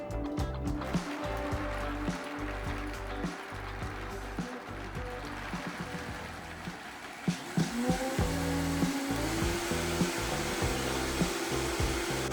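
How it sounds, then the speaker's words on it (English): A Vitamix high-speed blender blends almonds with purified water into almond milk, giving a steady, loud motor roar with churning texture. The pitch shifts partway through, and no voices are heard. "Now let's make almond milk with the Vitamix high-speed blender."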